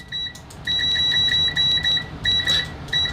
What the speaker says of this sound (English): we're finally getting that audible alarm